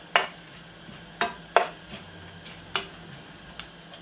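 Melon seeds frying in oil in a pan while making atta besan ladoo, with a faint sizzle under a handful of sharp, scattered ticks and clinks from a utensil striking the pan.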